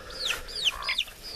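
A broody hen with her three-week-old naked-neck chicks makes a quick, close series of high, sweeping chirps and soft clucks in a quiet setting.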